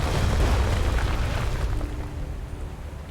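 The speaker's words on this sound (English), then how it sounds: "Cool guys, don't look at explosions." A deep booming explosion in the video game King's Quest rumbles out and slowly fades, a heavy low blast with a lingering tail and no voices.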